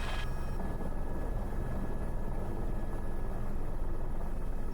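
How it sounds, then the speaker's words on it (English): A helicopter lifts off and crosses an airport runway with a loud, steady rotor and engine roar that continues without a break. "you mind if I launch a helicopter in front of you to go to the other side?"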